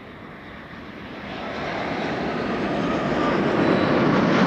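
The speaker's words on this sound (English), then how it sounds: "this is KLM flight 640 arriving from San Diego" A brand-new KLM Boeing 787-10 Dreamliner, registration PH-BKR, arriving at Amsterdam Schiphol after a flight from San Diego, its engine roar building steadily from moderate to loud as it approaches, broadband and continuous with no talk.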